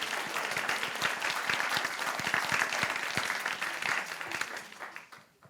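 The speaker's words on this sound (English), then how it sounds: "let's give a round of applause" An audience at a climate finance summit session applauds together, with dense, sustained clapping that stays steady before fading out near the end.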